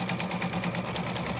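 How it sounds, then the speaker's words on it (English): A Baby Lock Altair 2 embroidery machine stitches down around clear vinyl on an in-the-hoop treat bag, giving a steady, close mechanical whir with a fast even pulse that runs unbroken through the short stretch. "hit my start key. And then that's going to sew down around that clear vinyl"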